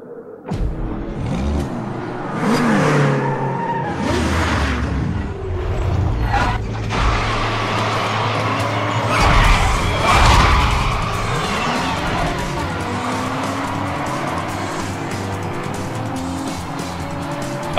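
Car racing on a dry track in the video game Need for Speed Hot Pursuit: loud engine roar rising and falling through gear changes, with repeated tire squeals and skids, continuous and close.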